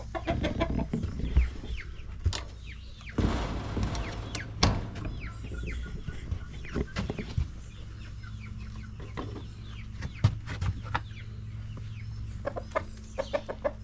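A beaten-up homestead rooster clucks in short, irregular bursts over steady farmyard background noise, with a louder squawk-like burst partway through and scattered softer clucks after.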